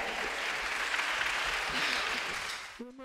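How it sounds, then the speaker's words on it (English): An audience at a televised school science quiz competition gives a round of steady, dense applause. The clapping runs for almost three seconds before breaking off, and a voice briefly begins speaking at the end. "a round of applause to them"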